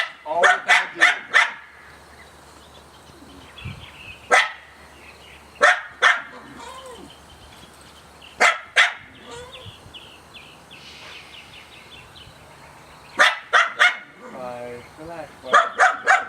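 Several dogs bark in sharp clustered bursts, close and loud, with pauses between volleys and a person talking softly in the gaps.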